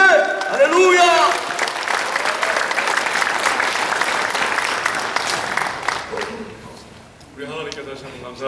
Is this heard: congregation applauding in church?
yes